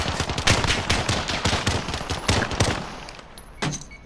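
Loud, rapid automatic gunfire in the Call of Duty: Modern Warfare video game, a dense stream of close shots for about three seconds, then a brief pause and one last isolated shot.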